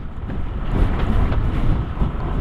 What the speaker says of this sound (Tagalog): Ang lakas din ng hangin dito